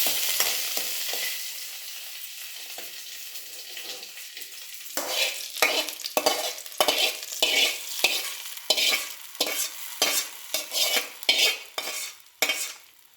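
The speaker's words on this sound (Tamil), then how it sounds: "உளுத்தம்பருப்பு, கருவேப்பிலை, இது அப்படியே தாளித்து அப்படியே கூட்டில் எடுத்து போடணும்." Urad dal and curry leaves sizzle and fry in a pan for tempering, a steady hiss punctuated by repeated stirring scrapes of a spoon against metal, close and fairly loud with no talking.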